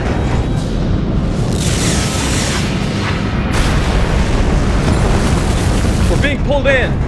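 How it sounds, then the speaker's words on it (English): A starship explosion sound effect rolls on as a dense, sustained roaring rumble with crackling bursts, loud and continuous for several seconds, with a brief voice near the end. "I'm reading a massive gravimetric distortion forming in the wake of the explosion"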